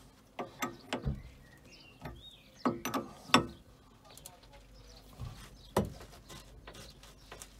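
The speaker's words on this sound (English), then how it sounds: "And then get 22mm spanner." 22mm spanner on a boat hydraulic hose fitting, a series of sharp metallic clicks and clanks in irregular bursts, close and distinct against a quiet background.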